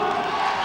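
A large stadium crowd cheers and roars steadily at a televised multi-sport athletics contest, a dense, continuous wash of voices with no pauses and no single voice standing out.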